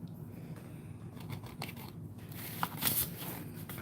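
Scissors cut squares of material for a crystal terrarium craft, with quiet close snips and crinkling that build to a louder cut near the end.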